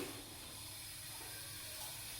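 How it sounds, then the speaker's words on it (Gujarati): Half a spoon of cumin seeds hits a spoonful of hot oil, giving a faint, steady, even sizzle that holds for a couple of seconds with no talking. "હવે આપણે અડધી ચમચી જેટલું જીરું નાખીશું."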